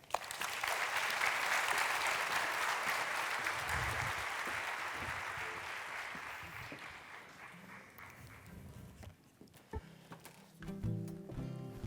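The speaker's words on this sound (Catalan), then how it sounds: "Un aplaudiment." Audience applause in a theatre at a season presentation, a full burst of clapping that swells early, then gradually thins and fades before music begins underneath.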